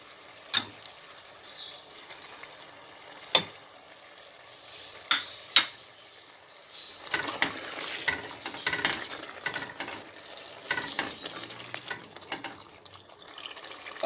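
Whole spices, including crushed red chili, a cinnamon piece and garam masala, dropped into a hot pan for mutton korma and stirred, giving sharp clinks and a few knocks, then a steady busy sizzle with scraping.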